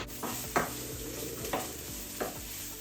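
Onion frying in a pan gives a steady soft sizzle, with three louder scraping stirs spaced about a second apart; no one speaks.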